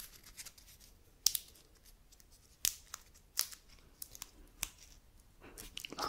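A dry paper perfume blotter strip is snapped and torn close up in a quiet ASMR setting, giving several crisp, sharp cracks and faint crinkles spaced irregularly, soft overall with no talking.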